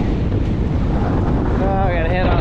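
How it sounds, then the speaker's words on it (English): Wind blowing in Glacier Basin near Kololo Peaks in the mountains, loud gusty buffeting over the microphone throughout, with a brief voice near the end. "it's getting a little windy"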